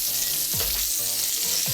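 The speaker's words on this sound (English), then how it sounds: "Right as that butter starts to foam a little bit, just baste the fish" Fish in a hot pan being basted with foaming butter gives a loud, continuous, close sizzle, broken by a few quick spoon sweeps through the fat.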